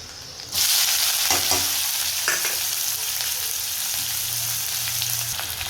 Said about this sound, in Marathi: तर शेंगा चांगल्या लाल करून म्हणजे तळून घेते हे बघा